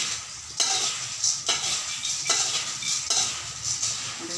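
A spoon stirs puffed rice (murmura) with a pinch of salt in a pan, giving a close, dry rustling scrape with several sharp clinks of metal against the pan at regular intervals, no voices.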